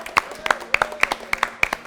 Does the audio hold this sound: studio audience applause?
yes